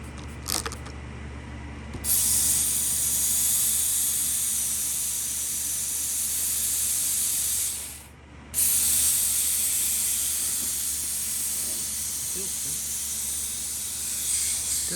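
Loud steady hiss of a spray bottle misting soapy water over a turbocharged Toyota Supra's intake to find a boost leak, running in two long bursts with a brief pause between.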